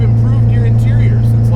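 SR20-swapped Nissan 240SX heard from inside the cabin while driving, a loud, steady low engine drone mixed with wind noise.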